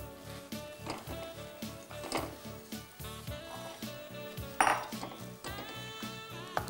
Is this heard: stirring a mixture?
yes